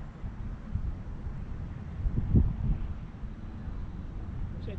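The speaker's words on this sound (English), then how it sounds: "Got that wind in our face, don't we?" Wind blowing across an open golf course, a steady low rumble buffeting the microphone with a stronger gust swelling midway, no talk.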